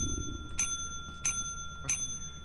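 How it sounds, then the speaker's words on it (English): Bell rung in the video game Lethal Company: three bright metallic dings at an even spacing, each with a ringing tail, clear and close. "I can't even ring the damn bell."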